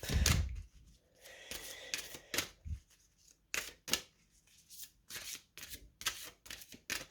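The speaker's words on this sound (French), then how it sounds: "On va couper, on va remélanger un petit peu" Oracle cards shuffled by hand after purification with palo santo, giving repeated crisp riffling bursts and soft taps in an irregular rhythm, close and fairly quiet, with no talking.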